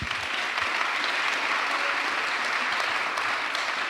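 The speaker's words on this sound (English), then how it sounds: "Round of applause." A convention hall audience gives a round of applause at a plenary session, a continuous, even roar of many people clapping throughout, loud and close with no break.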